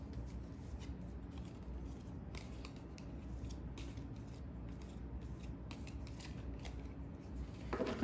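A deck of tarot cards being shuffled, a steady soft rustling and riffling that runs throughout, close and fairly quiet, with a slightly louder flutter at the very end and no talking.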